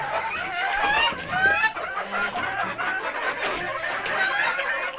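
Laying hens and new chicks kept together in one small room at home cluck and cackle busily, close and continuous, with no talk.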